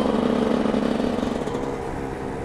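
A two-stroke 50cc motorcycle cruising at about 50 km/h in fifth gear gives a steady, buzzing engine drone, loud and close, holding an even pitch throughout.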